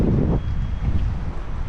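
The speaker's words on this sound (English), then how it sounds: "you can hear the wind whipping in the video" Wind whips around a kayak near the Oregon Inlet bridge in North Carolina, a dense, close rumble of gusts hitting the microphone for a brief stretch without talking.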